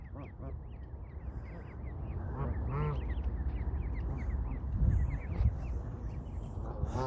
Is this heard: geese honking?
yes